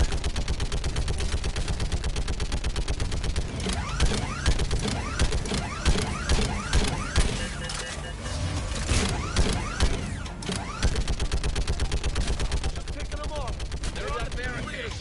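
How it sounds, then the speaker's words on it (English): Turret fire in Mass Effect 3, a loud rapid mechanical rattle of repeated shots with clanking, gear-like mechanism noises, sustained over the whole stretch with brief pauses. "Oh cool, we get to fire a turret."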